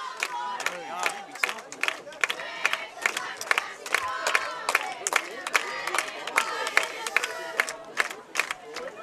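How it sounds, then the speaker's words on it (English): A high school football crowd at Caston versus West Central roars and cheers for the Comets, loud continuous shouting with sharp repeated bursts like chants or stomps punctuating the din throughout. "the crowd out here getting all riled up for the Comets"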